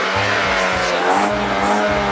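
A car with an upgraded exhaust roars loudly and continuously at close range, a throaty rumble swelling briefly in the middle.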